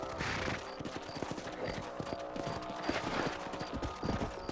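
Horse hooves clip-clopping at a steady gallop while riding through the range in Red Dead Redemption on Xbox 360, loud and close, with a brief whinny and game music underneath.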